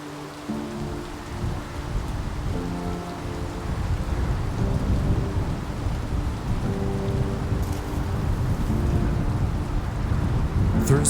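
Steady rain falls with a low rumble of thunder rolling underneath, a continuous wash of noise that grows slightly louder, outdoors in Glasgow.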